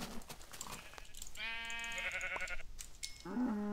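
Sheep in the Minecraft video game bleat several times in short, wavering calls that are fairly close and clear, with brief pauses between them and no talking.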